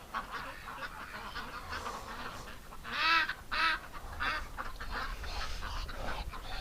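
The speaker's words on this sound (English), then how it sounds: "Oh, ducks. You're like a bunch of husky dogs." Ducks honk in two loud, nasal bursts near the middle, with softer squawks and quacks continuing around them against a steady outdoor background.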